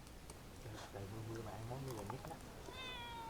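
A cat meows with drawn-out, rising and falling calls at moderate distance, repeated a few times over a steady room background, with a brief high electronic tone near the end.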